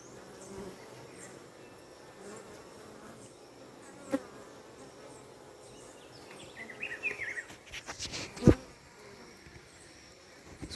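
Honeybees buzzing softly around a hive during beekeeping in October, a faint continuous hum with a few louder passes as a bee flies close.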